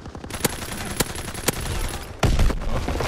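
Call of Duty WW2 gunfire crackles in rapid bursts, with several sharp, distinct shots cutting through a dense bed of continuous firing, loud and close.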